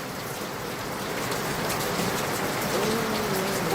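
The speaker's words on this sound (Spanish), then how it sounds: "De nuevo se va a poner a llover fuerte." Heavy rain pours down in a dense, steady hiss that stays loud and constant throughout, drumming on surfaces with no voices over it.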